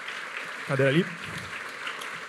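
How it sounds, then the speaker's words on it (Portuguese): Applause from the audience at an urban talk event, a steady spread of clapping running under the whole moment while someone briefly speaks over it. "Salva de palmas."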